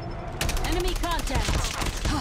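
Rapid gunfire from a gun in a video game match, a dense burst of repeated shots running nearly throughout, loud and close, with voices heard over it.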